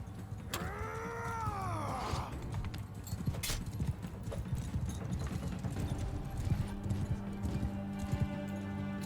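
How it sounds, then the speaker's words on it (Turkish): Hooves clip-clop from a mounted horse in the Mount & Blade Bannerlord battle game, a steady beat running under loud battle noise, with a brief whinny-like rising tone near the start and sharp hits cutting through. "Aha ata bindim."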